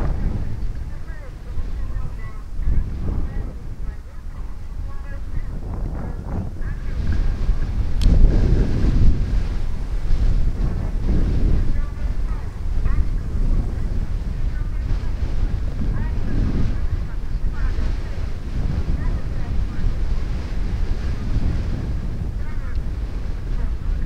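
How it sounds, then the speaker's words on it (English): Strong wind sweeps across a model glider flying field in Dupnitsa, Bulgaria, producing a continuous heavy roar and microphone buffeting that swells in gusts, with faint voices now and then in the background. "And this is quite typical of the windy Dubnica flying."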